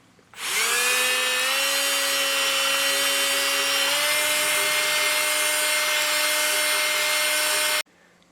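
A brake master cylinder bore being honed by a power drill, a loud steady high whine with grinding that starts abruptly, holds for about seven seconds and cuts off cleanly.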